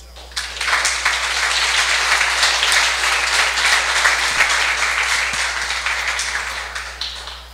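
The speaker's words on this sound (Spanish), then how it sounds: "yo pido para él, por favor, un gran aplauso" An audience at a rural family-farming gathering in Costa Rica applauds a guest, a licenciado. Full, dense clapping swells quickly, holds steady for several seconds, then tapers off near the end over a low steady hum.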